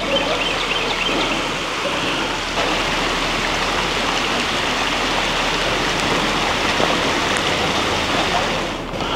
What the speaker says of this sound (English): Just following along the creek.